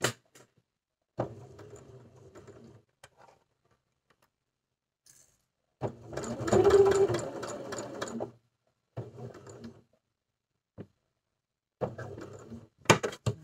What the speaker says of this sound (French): vous allez piquer dans le trait bleu, aiguille plantée, et après vous tournez